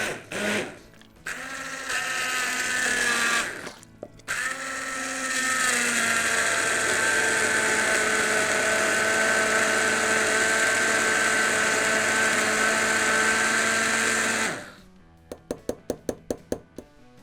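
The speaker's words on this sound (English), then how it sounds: "So I just like to do this with the stick blender straight in the pot." A stick blender runs straight in a hot pot of pumpkin soup, starting and stopping in short bursts before a long steady whir of about ten seconds, loud and close, then cutting out to a few quiet clicks and knocks.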